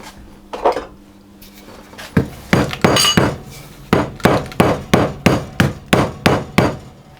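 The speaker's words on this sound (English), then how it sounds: "I'm going to bash our butter with a rolling pin to soften it" Repeated heavy thuds of a rolling pin bashing butter strike at a steady rhythm, each a dull knock with a slight clatter, starting sparse and settling into regular, evenly spaced blows.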